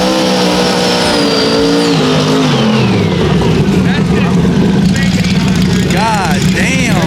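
A loud 2000-horsepower drag race car engine revs and roars at a TX2K exhibition, pitch sweeping as it accelerates, with crowd noise and voices mixed in.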